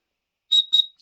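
Two short, shrill whistle blasts from a whistle built into a folding knife, in quick succession, high-pitched and close, followed by a faint chirp in silence.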